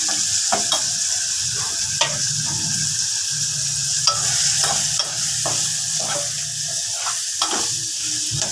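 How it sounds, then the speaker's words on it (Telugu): Green chillies and tomatoes fry in a pan for gongura chutney, giving a steady loud sizzle with occasional stirring scrapes and clicks throughout. "పచ్చిమిరపకాయలు, టమాటాలు ఇలా వేగాలి"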